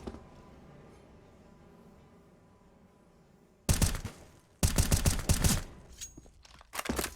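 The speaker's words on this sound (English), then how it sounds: "nice taps out of Nilo" Rifle fire in a Counter-Strike match on the Overpass map comes in bursts of rapid, loud taps after a quiet stretch of ambient game noise, with further shots at the end.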